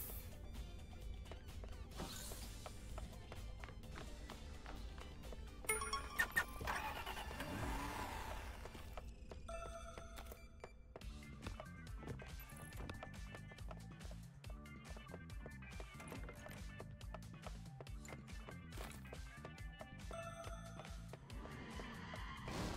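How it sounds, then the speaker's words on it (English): An extraction vehicle engine from the Deceive Inc video game drones steadily at mid volume, with a few skids and revs mixed into other game sounds. "Extraction vehicle on standby."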